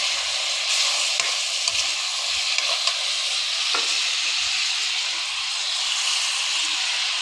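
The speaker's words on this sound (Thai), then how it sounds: "ผัดมะเขือยาวใส่หมูสับจ้า" Eggplant and minced pork being stir-fried in a hot pan, a steady dense sizzle and hiss with occasional scraping of a spatula, continuous and fairly close.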